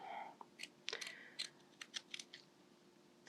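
Pinking shears snip through fabric around the stitched ear of a handmade soft toy, a quiet series of crisp, irregularly spaced cuts close up.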